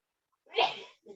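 A single sharp sneeze bursts out of near silence, followed by a brief trailing sound.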